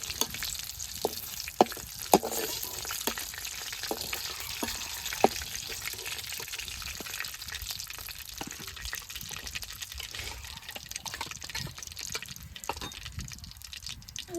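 Meat pieces fry in oil in a village home kitchen, a continuous close sizzle with scattered sharp pops and clicks, moderately loud throughout with no talking.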